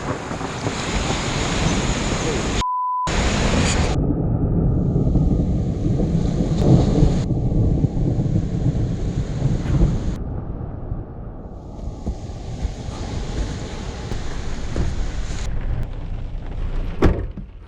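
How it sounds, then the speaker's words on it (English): A thunderstorm rolls over the beach, deep rumbling thunder under steady roaring surf, wind and rain, loud and continuous throughout. "The sky went completely dark, as you can see overhead, and thunder and lightning started happening."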